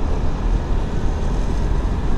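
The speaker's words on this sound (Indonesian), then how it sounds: "Di sebelah saya ada motor dan ada mobil yang berkendara" Roadside traffic of cars and motorbikes riding together, a continuous low engine rumble and tyre roar close by, steady throughout with no clear breaks or speech.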